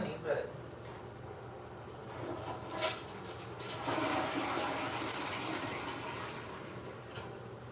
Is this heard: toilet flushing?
yes